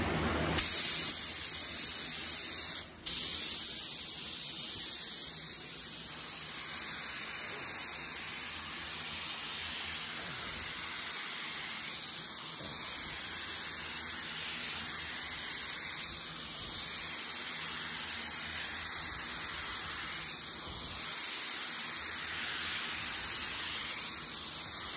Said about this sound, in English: I've been spraying primer with this gun